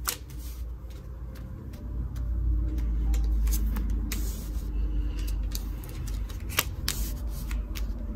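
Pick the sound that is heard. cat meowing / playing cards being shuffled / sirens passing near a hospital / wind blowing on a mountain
playing cards being shuffled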